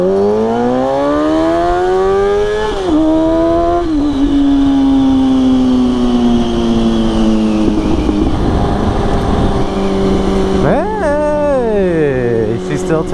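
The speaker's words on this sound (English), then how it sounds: "I'm gonna do the little first gear pull." A motorcycle engine pulls hard through first gear, its pitch climbing steadily in a loud, sustained rising whine before a shift and further revving near the end, with a person talking faintly underneath.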